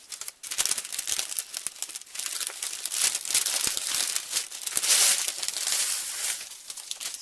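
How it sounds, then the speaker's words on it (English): Crinkly plastic tinsel of Dollar Tree Christmas garland rustling and crackling as it is handled and cut, a dense, continuous close-up crumple with sharp snips and crackles throughout. "cut some of this garland"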